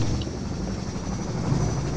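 Aircraft engine drone from the video game Half-Life 2, a steady low rumble with faint high whine that stays constant and fairly loud, with no talk.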